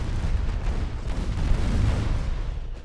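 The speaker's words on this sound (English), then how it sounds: "the enemy battleship is taking heavy fire as well." Naval gunfire in the Ultimate Admiral Dreadnoughts video game, a battleship engagement against a light cruiser, rumbles as a continuous low, heavy barrage of booms with no clear gaps between shots, steady and loud throughout.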